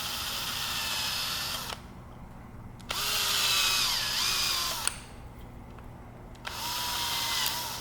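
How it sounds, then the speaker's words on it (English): A power drill bores out the cylinder of a 3D printed revolver, sounding in three loud bursts of high whine with short quiet pauses between them, the pitch dipping slightly as it bites into the plastic. "and this needs to be drilled out for sure."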